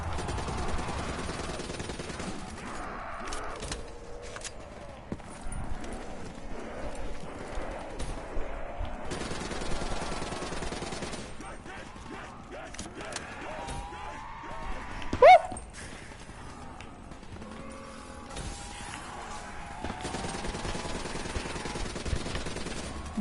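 Rapid bursts of video-game gunfire crackle through a busy, cluttered mix, with repeated volleys, short pauses and one sharper bang partway through, fairly loud and without clear talk.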